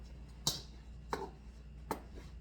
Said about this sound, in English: I'm going to mash the yolks up some